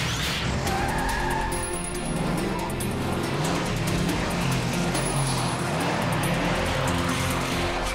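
Cartoon robot vehicle tires spin and skid in sand, a continuous loud engine whine with squealing, grinding tire noise held steadily throughout, no talking.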